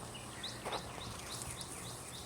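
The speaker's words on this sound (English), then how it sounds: "Do you hear that bird in the background?" A cardinal sings in a garden, a series of short, evenly spaced clear whistled notes repeating at a steady rhythm, fairly faint and distant over a soft background hiss, with no talking.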